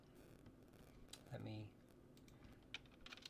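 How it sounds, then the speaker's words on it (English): Computer keyboard typing, scattered soft key clicks at low level with a brief voice sound in the middle. "everyone stop typing for 2 seconds"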